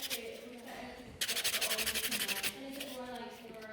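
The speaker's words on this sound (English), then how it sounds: "Perfect, time to grab the white buffer. So I'm just filing in the middle." A white nail buffer filing across a nail, a rapid rhythmic rasping of about a dozen quick strokes, close and clear, with a softer scraping before and after and quiet talk underneath.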